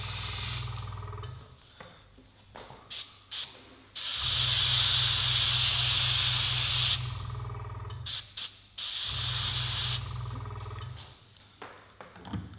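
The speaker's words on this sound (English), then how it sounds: "we're now going to go ahead and just apply some using our airbrush" An airbrush sprays colour onto leather in a leather workshop, giving two long, loud, steady hissing bursts with several short spurts in between, all close and with no talking.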